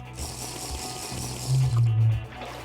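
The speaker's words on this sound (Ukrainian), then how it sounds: "У мене ж глечик є, я можу по води набрати. Так, повний глечик води." Clay jug being filled with water in Minecraft with the TerraFirmaCraft mod, a short bubbling, gurgling fill that swells loudly near the middle and then fades, heard alone.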